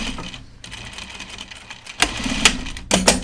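A sewing machine top stitching denim jeans, with a low steady running hum that breaks into sharper rattling bursts toward the end, close by.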